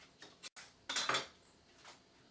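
A knife slices through a stack of two cooked lasagna noodles for a pierogi casserole, producing a few quiet, scraping cuts and a light clink against the board or pan, with no talking.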